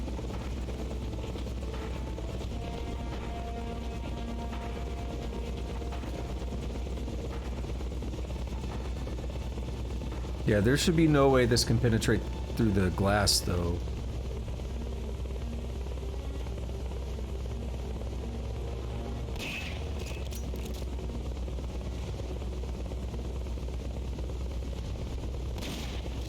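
The Hind D helicopter in Metal Gear Solid: Peace Walker keeps up a constant rotor drone throughout, broken midway by a loud burst of gunfire and explosive impacts, with someone talking briefly over it.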